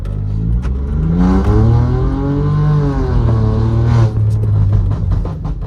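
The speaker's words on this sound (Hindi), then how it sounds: "हल्का सा एक्सेलरेट करूँगा तो आपको एक आइडिया हो जाएगा कि कितनी वो है इसके अंदर" A VW Polo GT TSI 1.0 with a stage 2 burble remap revs up from idle, its engine note climbing and holding loud and near, then dropping back with crackling burbles before settling to a rough idle.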